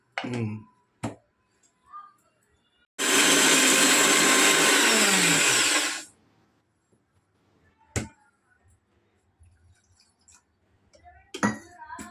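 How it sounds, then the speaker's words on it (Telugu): A kitchen mixer grinder whirs loudly while grinding masala spices for a Sunday mutton curry, a dense steady roar lasting about three seconds before cutting off, framed by quiet clinks and brief taps. "మసాలా మిక్సీ పట్టేస్తాను"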